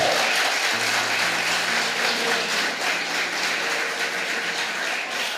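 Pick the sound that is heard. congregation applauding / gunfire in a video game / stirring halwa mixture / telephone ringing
congregation applauding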